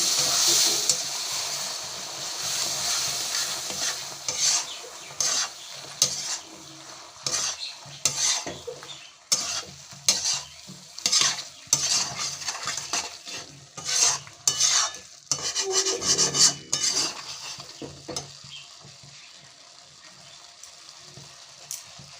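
Whole chickpeas are stir-fried in a spice masala, with a spatula scraping and knocking hard against the pan in quick irregular strokes over a constant sizzle, close and loud.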